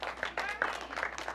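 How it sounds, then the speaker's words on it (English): An audience at an aviation conference talk bursts into scattered, moderately loud clapping, dense and uneven, with a voice briefly mixed in over it. "Some people like to applaud at this point."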